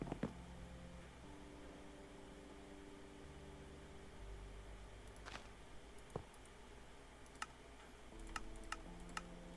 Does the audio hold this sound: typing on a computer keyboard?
yes